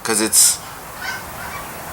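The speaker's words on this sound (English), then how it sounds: "you can hear the geese now because they're migrating" Migrating geese give a few loud, nasal honks at close range, followed by fainter honks farther off. A voice speaks briefly at the start.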